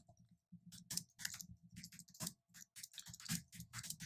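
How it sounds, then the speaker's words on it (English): Keys clattering on a computer keyboard in short uneven bursts of close, crisp clicks with brief pauses between, quiet and alone. "Just going to type some generalized message here."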